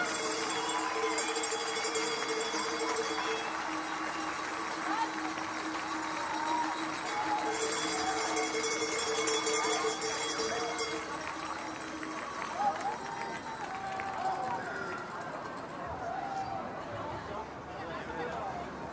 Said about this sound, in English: one more big round of applause for Denmark, Germany, and your champions, Switzerland